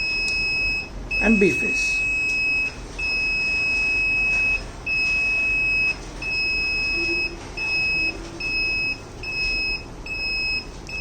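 A fault alert buzzer on a three-phase transmission line circuit beeps in a steady on-off pattern of high-pitched tones, close and fairly loud, with someone speaking over it.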